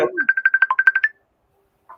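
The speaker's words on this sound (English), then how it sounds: "Answer the phone, Ike." A phone ringtone plays a quick run of bright electronic beeps, close and clear, followed by a short silence and a brief note.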